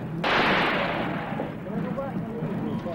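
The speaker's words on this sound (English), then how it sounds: "A gun battle broke out." Archival gunfire from a gun battle: one sharp, loud blast is followed by a rumbling, decaying wash of noise, with voices faintly underneath.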